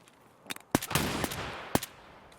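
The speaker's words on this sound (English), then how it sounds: "I'm so happy that that was a flashbang." A flashbang grenade detonates in Tarkov, a few sharp close cracks followed by a loud burst and a lingering wash of noise, then another sharp report.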